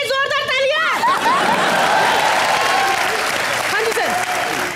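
A studio audience at a comedy show applauds loudly and steadily. A voice speaks over the start of the clapping, and a shout breaks through near the end.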